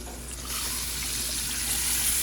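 Green peas dropped into a hot pan for matar pulao, giving a loud, steady, broadband hiss and sizzle that swells slightly and holds without break.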